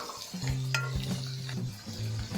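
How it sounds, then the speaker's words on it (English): A spoon stirs spice tempering with turmeric in a pan over medium heat for dal, soft repeated scraping strokes over a faint sizzle, quiet and close, with no talk. "Stir for about 1 minute on medium heat so the raw smell goes away."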